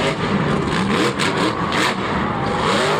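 The Pirate's Curse monster truck at a Monster Jam arena show in Orlando revs its engine, a loud continuous roar with surging rises and dips, with crowd and arena noise mixed in.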